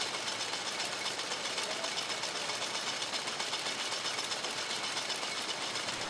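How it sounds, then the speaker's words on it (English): A rotary gill drawing machine processing jute runs with a dense, steady mechanical clatter and rapid rhythmic ticking from its moving gill pins, loud, close and unbroken. "the movement of the gill pins in a rotary gill drawing machine"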